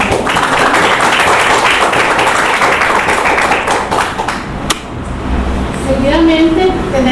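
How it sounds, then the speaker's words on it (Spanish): Audience applause at a university rectorship campaign event at a regional campus, a busy mix of clapping and room noise that carries for several seconds, then drops away to quieter, scattered sounds. "Pido un aplauso."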